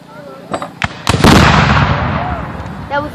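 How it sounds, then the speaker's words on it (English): A cannon fires outdoors: a few sharp booms lead into one loud blast whose rumble fades slowly over the next seconds, while people talk nearby. "That was their cannon, right?"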